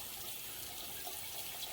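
Cold tap water runs onto a towel with a faint, steady hiss and soft splashing, continuous and fairly quiet throughout.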